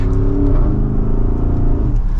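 A 2023 Porsche Cayenne Turbo engine hums close by and builds as it accelerates, its pitch rising smoothly over a low, steady drone.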